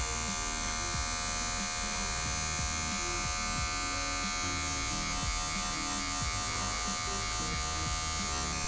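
Electric hair clippers buzz continuously and loudly up close while cutting a skin fade guideline, with faint ticks from the blade passing through hair.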